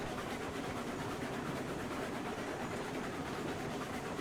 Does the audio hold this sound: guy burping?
no